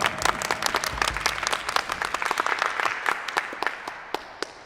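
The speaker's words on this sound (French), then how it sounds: "On applaudit bien fort." An audience claps loudly at a church show in Mantes, a dense burst of applause that tapers slightly toward the end, with no talking over it.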